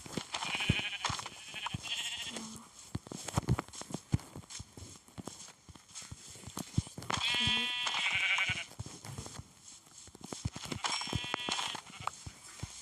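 Sheep in the Minecraft video game bleat a few times at a faint level, the wavering calls spaced apart among quick clicking steps and soft tapping.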